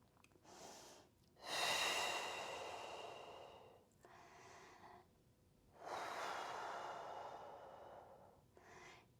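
Slow, deep breathing during a Pilates reformer hamstring stretch, long audible inhales and exhales close to the microphone, with no talking.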